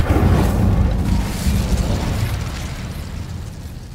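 A fire spell cast in the Hogwarts Legacy video game lets out a loud, roaring burst of flame that fades slowly into a sustained crackling rumble, heard alone.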